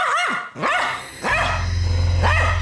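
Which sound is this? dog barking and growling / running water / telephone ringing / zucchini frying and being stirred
dog barking and growling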